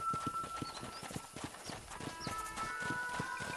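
Horse hooves clip-clop in a quick, steady trotting rhythm in Red Dead Redemption, close and clear over a soft ambient bed.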